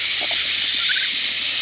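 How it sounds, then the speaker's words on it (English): Water hisses steadily from leaking connectors on a drip irrigation main line as the system begins to fill, a constant close spray noise with little change throughout. "Oh, they're leaking."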